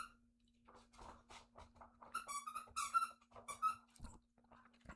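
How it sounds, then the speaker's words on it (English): A dog runs about squeaking a squeaky toy, giving a quick string of high, wheezy squeaks in the middle stretch, faint and somewhat distant against a quiet room. "she's running around in the background squeaking a toy right now."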